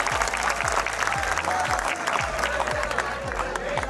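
Audience applause at the opening of a sports day and guidance session for Japan-bound students at a training centre, dense continuous clapping from a crowd with low rhythmic thumps underneath, held for several seconds.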